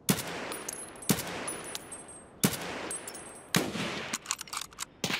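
AK rifle fire in the video game Escape From Tarkov, with several sharp bursts of rapid shots separated by short pauses, loud and close.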